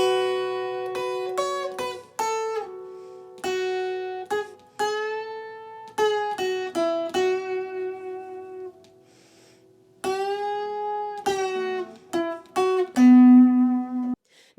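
An acoustic guitar with a capo plays the intro to a song, a picked melodic line of quick plucked notes and short phrases with brief pauses, close and clear with no voice over it.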